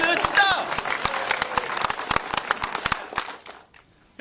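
Dense, lively clapping from an audience at a motivational talk, with voices calling out at the start, building to a steady patter before thinning out and stopping near the end.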